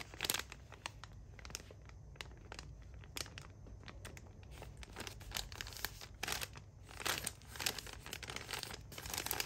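Close, quiet crinkling and rustling of a small plastic bag, with irregular crackly bursts throughout as trim is removed, and no talking.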